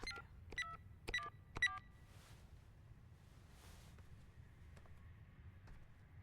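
Telephone number dialed in the video game Beyond: Two Souls: a quick run of four electronic keypad tones, then fainter breathy noises and a few softer tones over a steady low hum.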